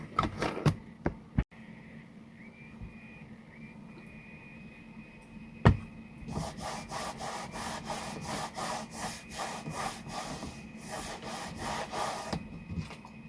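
Leather being rubbed over and over with a heavy wax reviver treatment: a steady run of close, rhythmic scrubbing strokes that picks up after a few scattered taps and continues with no talking.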